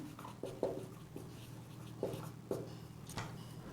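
Pen strokes of someone handwriting a machinery-purchase journal entry, quiet scratchy marks in short separated bursts over a low background hum, with no one speaking.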